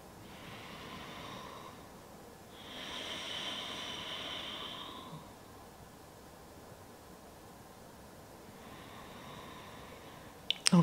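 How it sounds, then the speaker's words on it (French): Slow, deep breaths taken during a calm yoga session, hands on the lower belly, come as long soft airy rushes. One drawn-out breath swells in the middle, and fainter breaths sit at the start and end over a quiet hiss. "prendre ici 5 respirations conscientes"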